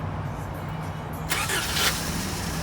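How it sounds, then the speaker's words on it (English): A car engine cranks and fires after its ignition control module is replaced with a generic GM LX301T unit. A broad burst of noise starts midway and holds over a steady low hum, fairly loud and close. "now let's start the engine and"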